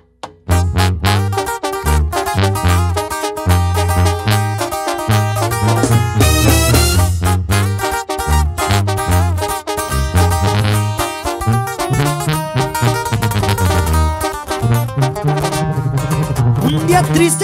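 A banda arrangement of a corrido plays loud and continuous, with a driving rhythm and full brass-band texture throughout.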